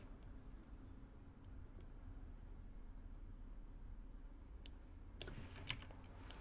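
Fingers tap a computer keyboard, with sparse faint keystrokes at first and then a quick flurry of sharper clicks near the end, close and quiet.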